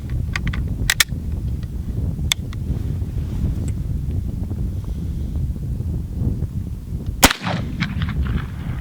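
A firearm of 1873 vintage is fired at a target outdoors, one sharp loud gunshot cracking near the end over steady wind noise, with a few faint clicks earlier.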